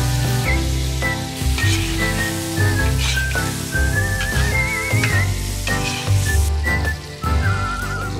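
Grated tomatoes hit hot oil and fried onions in a kazan, giving a loud, continuous sizzle and frying crackle that holds steady throughout.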